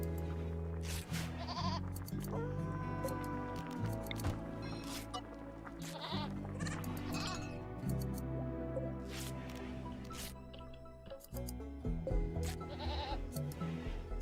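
Muffalo bleats in RimWorld ring out repeatedly, several nasal animal calls mixed with dripping, squishy game effects and background music, no voices present.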